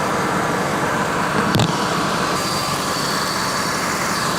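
A 1998 Ford Expedition Eddie Bauer 4x4 idles with its 5.4L engine running and the AC on high, a steady broadband engine drone and blower rush throughout, with a brief sharp knock partway through.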